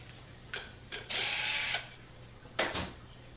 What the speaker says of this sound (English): remove that bolt.